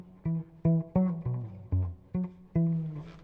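Violin played through an effects pedal setup with the octave effect off, a string of seven short plucked or bowed notes in a steady rhythm, clear and close with no other sounds.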